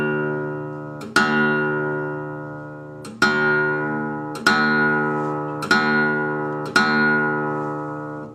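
Several plucked notes on a guitar string tuned a semitone above D for Delta blues, each ringing out and slowly decaying, close and clear with no talking.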